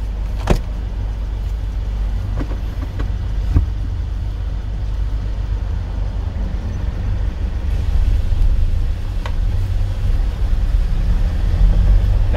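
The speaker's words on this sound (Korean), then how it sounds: "지금부터는 운전 목적지까지 집에까지 차를 이 트럭을 끌고 가는 거예요" A truck pulls away at the start of a road driving test, its engine rumbling low and steady from inside the cab with a few clicks and knocks early on, and the engine drone swelling slightly as it gathers speed.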